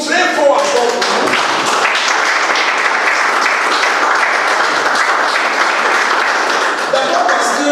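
Participants at a land-management training session in Yaoundé applaud loudly and steadily, a dense wash of clapping that fills the room throughout, with a few voices mixed in.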